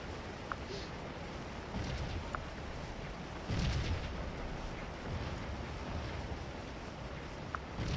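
Artillery booms in Scourge, a Civil War strategy video game, roll as distant, muffled thumps over a constant rumbling battle bed, with a few sharper pops scattered throughout.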